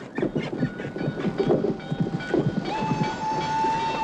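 A train rolls along rails with rumbling wheels, clatter and a sustained tonal whine rising toward the end, fairly distant and moderately loud with no talking.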